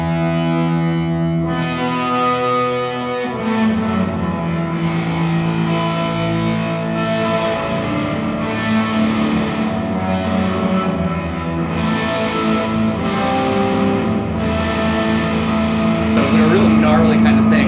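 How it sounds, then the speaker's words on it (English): Sustained electric guitar chords through a sub-octave reverb pedal, with a thick, distorted tone, a deep octave layer underneath and a reverb wash, played steadily and loudly without any talking. "This adds a sub-harmonic octave, a reverb, and some other goodness."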